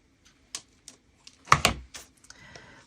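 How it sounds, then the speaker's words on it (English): Scissors snip around a postage stamp in a small circle, giving a few sharp, close clicks and cuts spaced irregularly, with a denser cluster of snips midway. "Let me get my scissors around here and just do it in a little circle."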